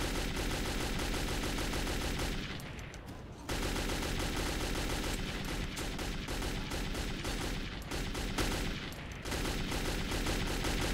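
Sustained automatic gunfire rips through barricades in Metro 2033, loud and continuous rapid shots with only a couple of brief lulls, no talking over it.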